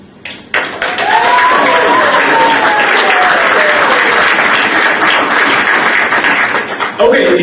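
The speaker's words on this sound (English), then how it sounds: "I want from your side one good applause." A room full of people at a Coinspace event applauding: loud, dense, sustained clapping from start to finish, with a cheering voice rising and falling over it and a brief voice at the very end.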